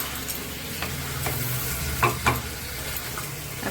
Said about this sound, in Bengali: এখন ভালো করে কষিয়ে নেব।